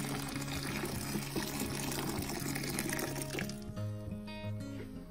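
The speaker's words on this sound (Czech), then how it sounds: "Horkou vodu přelijeme konopnou herbu." Hot water is poured over hemp herb in a feeding trough for horses, a steady close stream of liquid running for several seconds over a low background hum.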